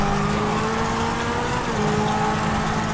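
A car engine roars steadily and loud in Grand Theft Auto Online while fleeing police, a sustained droning hum with faint tonal whine and no speech.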